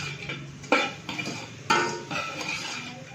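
A metal spoon stirs salt and black pepper into a tomato mixture in a pot, scraping with a few sharp clinks against the side, close and fairly quiet, with no talking.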